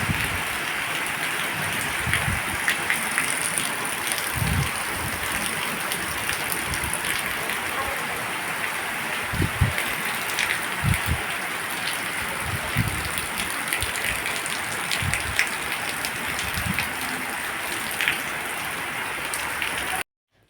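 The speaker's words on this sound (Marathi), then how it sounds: "बाहेरसुद्धा पावसाचा जोर एवढा वाढलेला आहे ना, तुम्हाला थोडंसं वातावरण बाहेरचं दाखवते." Heavy rain pours steadily outside a home, a dense continuous hiss of downpour with scattered louder drops and splashes, no voices over it.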